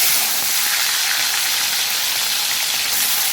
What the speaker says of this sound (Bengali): চিংড়ি মাছগুলো একটু ভাজা ভাজা করে নেব।